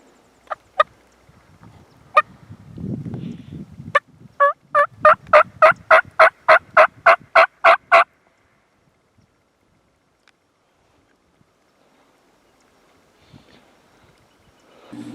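A wild turkey near a farm in Massachusetts gobbles loudly, first a few sharp calls and then a rapid run of a dozen evenly spaced clucking notes, followed by near silence.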